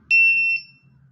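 A single bright electronic beep from a K3 infrared thermometer, a short high-pitched tone with a second brief chirp, clear and close, followed by quiet.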